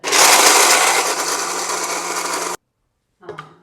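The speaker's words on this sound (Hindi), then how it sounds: "बादाम को ग्राइंड करने लगे हैं" A kitchen grinder whirs loudly as it grinds almonds coarsely, running for about two and a half seconds before cutting off abruptly, followed by a brief faint rustle.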